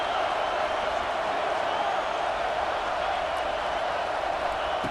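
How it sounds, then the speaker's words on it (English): A dense, continuous roar of a large college football stadium crowd at a Clemson vs LSU game, steady and loud throughout with no single voice standing out. "Listen to the crowd energy here in the early going."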